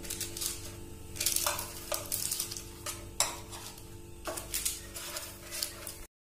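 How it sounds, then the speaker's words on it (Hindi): Milk is stirred in a pan while cooking milk cake, the spoon scraping and clinking against the metal in irregular strokes over a soft background hiss, close and fairly loud. "दूध को भी हमें साथ साथ हिलाते रहना है।"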